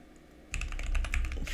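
Rapid typing on a computer keyboard while writing Lua code in Neovim: after a brief quiet moment, a dense, close run of quick key clicks begins and continues steadily.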